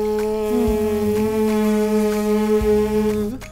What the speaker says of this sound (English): like humming like a bee, basically.